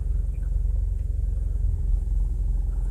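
An auto rickshaw engine rumbles low and steady while the vehicle creeps slowly backward, a close, even drone with no revving and no talk.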